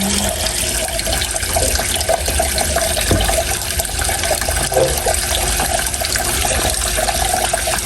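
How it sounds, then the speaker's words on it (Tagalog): Running tap water pours steadily into a sink while a milkfish (bangus) is rinsed by hand before cooking, with a continuous close splashing wash and a few brief knocks and shifts in the flow. "At ito po ay huhugasan na po natin bago po natin tuluyang lutuin."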